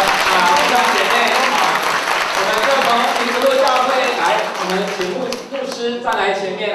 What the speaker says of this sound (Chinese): 我们拍手来谢谢民族路教会的弟兄姐妹。